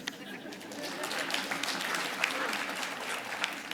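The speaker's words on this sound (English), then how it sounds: "could I get a round of applause for him" Conference audience applauding a speaker, moderate steady clapping from a room of people, somewhat distant, with faint voices mixed in.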